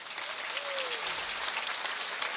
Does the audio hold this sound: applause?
yes